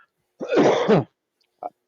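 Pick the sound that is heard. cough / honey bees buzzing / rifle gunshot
cough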